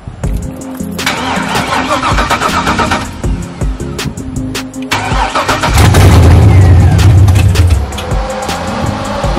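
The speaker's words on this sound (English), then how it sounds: "So when I crank this up, the fan should come on." An electric radiator cooling fan on an LS-swapped C10 truck kicks on as the engine is cranked and runs near and loud, a steady engine roar with a louder rushing surge in the middle.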